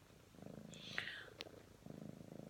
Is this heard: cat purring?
yes